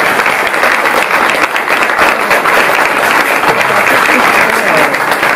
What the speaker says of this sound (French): On va encore applaudir Luc